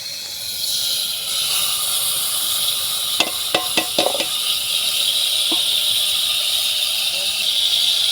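Prepared spice paste frying in hot oil for a Bhola fish curry gives a steady, close sizzling hiss throughout, with a brief cluster of utensil clatters near the middle.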